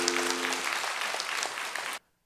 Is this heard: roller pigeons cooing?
no